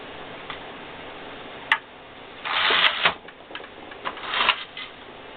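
A Singer sock knitting machine clatters as its carriage moves, with scattered ticks, a sharp click, and two brief louder bursts of rattling where the carriage catches, all close and with no talking.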